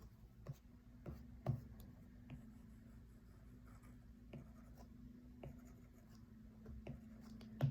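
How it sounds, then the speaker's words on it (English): Stylus strokes shading eyes on a sketch in Procreate on a tablet, a soft, quiet scratching and rubbing that keeps going with light taps scattered through it, close and faint. "I'm gonna go ahead and shade in her eyes a little bit."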